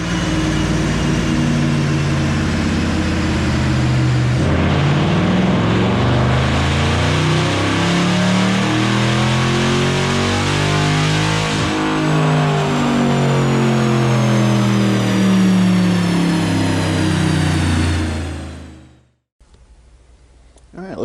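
A 2020 Dodge Charger 6.4 HEMI fitted with a JLT intake runs on a dyno, its engine roaring loudly as it climbs through the revs for most of the run, then cutting off abruptly near the end.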